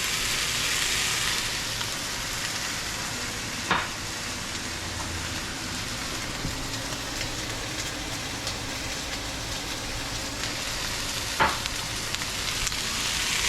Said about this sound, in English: we want to basically char these ingredients